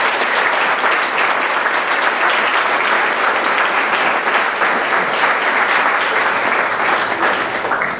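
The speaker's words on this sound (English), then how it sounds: "Let's give them a round of applause." An audience at an executive speaker series event gives a loud, continuous round of applause, a thick unbroken wash of many hands clapping from start to finish.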